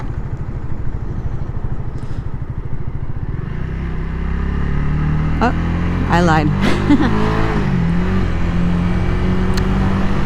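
Light road traffic heard from a moving vehicle, with engine hum and one or two cars or motorbikes passing close by, while someone speaks briefly over it.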